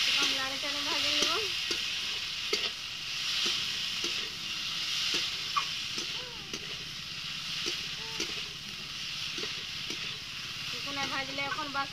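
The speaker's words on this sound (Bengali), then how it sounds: "আগে পেঁয়াজ রসুন আদা বাটা আমি দিয়ে নেব। লাড়ে চাড়ে ভাজে নেব।" Onion, garlic and ginger paste sizzles steadily in hot oil in a home kitchen, with scraping stir strokes and occasional utensil knocks, while a voice talks intermittently over the frying.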